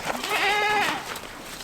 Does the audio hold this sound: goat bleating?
yes